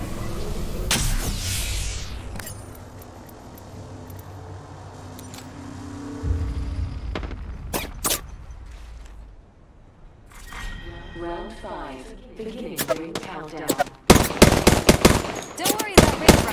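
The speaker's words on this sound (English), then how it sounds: "Getting shot at." Enemy gunfire in a shooter video game: sparse shots early, then rapid machine-gun bursts crackle loudly near the end, mixed with game effects and a voice speaking over parts of it.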